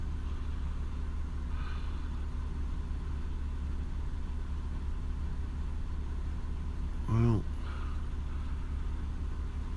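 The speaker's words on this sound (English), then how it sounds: "it's been 40 minutes idling and maybe 2 minutes accelerated" A car engine idles in a low, steady hum that holds throughout, with a brief spoken word briefly rising over it near the end.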